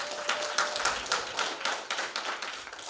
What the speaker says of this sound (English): let's first clap for our landlord